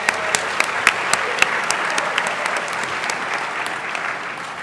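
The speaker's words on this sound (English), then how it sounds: "Let's give ourselves a round of applause." Audience applause in a school assembly hall, steady and moderately loud with a few sharp individual claps standing out near the front, holding evenly before easing slightly.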